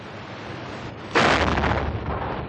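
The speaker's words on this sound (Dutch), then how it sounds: "Vandaar bestookten ze met zware kanonnen een moskee in een nabijgelegen moslimdorp." A heavy cannon blast in the Bosnian war, fired at a mosque in a nearby Muslim village, bursts in suddenly after a second of low rumble and leaves a loud, broad roar sustained to the end.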